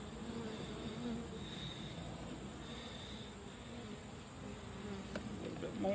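Honey bees being dumped from a hive frame give off a steady, faint, low buzzing hum that drones evenly throughout, with a light knock near the end.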